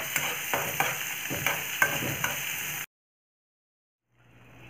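Green tomato chutney fried in a pan with a pinch of asafoetida, giving a steady close sizzle with a few rhythmic stirring scrapes, then cutting to near silence before a faint low hum returns.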